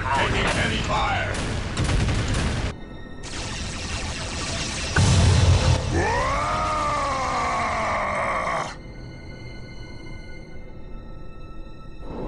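Heavy gunfire in the Dawn of War strategy game: loud bursts of rapid battle fire and booming blasts, broken by short gaps, with a voice groaning partway through and ringing tones lingering afterward.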